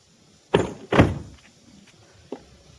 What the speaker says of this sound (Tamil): இப்போ கட்டு அடிக்கிறத தான் நம்ம பார்க்க போகிறோம்